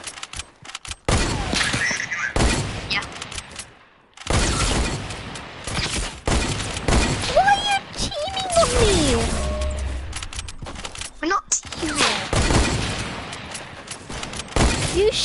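Bursts of gunfire from the Fortnite video game in Creative mode, sharp and loud in rapid clusters, broken by brief silences, with a voice talking in places.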